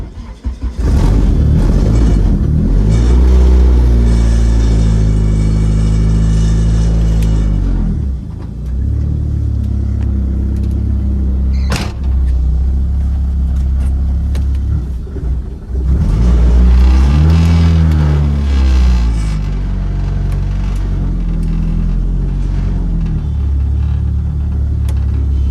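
A Dodge SRT4-swapped Eclipse with a newly converted clutch revs loud and close while driving, engine pitch climbing through gear pulls, dropping between shifts, then rising again.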